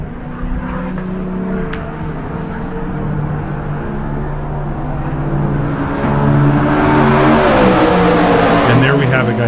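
A loud V8 race car engine roars and revs continuously at a track event, its pitch climbing as it accelerates, with a constant mechanical drone throughout.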